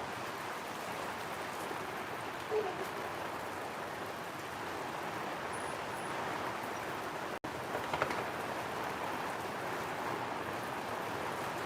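Heavy rain pours outside as a steady, dense hiss, constant throughout with a brief sharp knock partway through and no talking.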